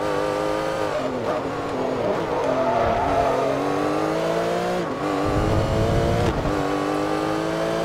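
Porsche race car engine roaring in the Forza Motorsport 3 racing game during a Porsche Cup event, revving loudly and continuously with rising and falling pitch through gear shifts, close and dominant throughout.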